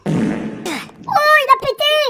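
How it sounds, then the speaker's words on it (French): A giant baby character in the video game Baby Bobby's Daycare lets out a loud, low, sputtering fart lasting about half a second, followed by high, childlike babbling vocal sounds from the game. "Oh, il a pété."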